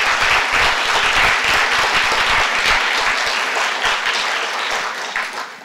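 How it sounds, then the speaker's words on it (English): A full audience applauds speakers at an all-day art history symposium on Spain's Golden Age, with dense, steady clapping that holds strong throughout and eases slightly near the end. "A round of applause for all of the speakers"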